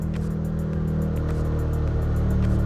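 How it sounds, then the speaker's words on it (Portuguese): A 2024 Toyota GR Corolla hatch with a 1.6 turbo engine and 304 hp idles with a steady low, thrumming exhaust rumble, close and even, with faint rhythmic ticking on top and no talking. "A esportividade no carro só no ronco do escapamento."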